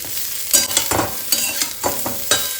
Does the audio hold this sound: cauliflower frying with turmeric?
yes